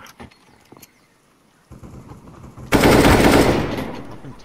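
Gunfire in a shooting video game: a few faint thuds, then a loud, dense burst of rapid shots that sustains and slowly fades, close and dominant with no talk.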